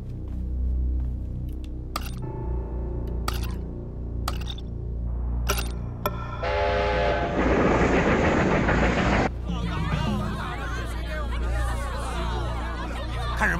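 A train on a railway line passes in a wartime drama scene: a constant low rumble with sharp clicks, then a loud hissing, clattering roar midway that eases into a rougher rattle.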